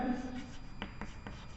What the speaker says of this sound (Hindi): तो आप लिखेंगे यहां